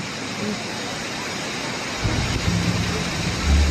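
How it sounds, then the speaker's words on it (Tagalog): Steady heavy rain hisses throughout at a mountain viewdeck, with a deeper rumble swelling in the second half like thunder rolling in. "Ang lakas ng ulan."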